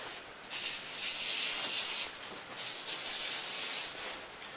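Two long hissing bursts from a lubricant spray can onto the blades of a hand ice auger, close and fairly loud, separated by a brief pause.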